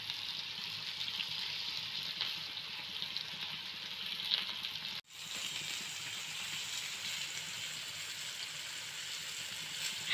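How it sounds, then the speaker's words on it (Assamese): Eggplant, potato and pointed gourd frying in a village home kitchen in Assam, giving a steady, moderately loud sizzle and crackle that runs without pause, broken by one brief silent gap midway. "বেঙেনা, আলু, পটল ভাজি আছে মায়ে।"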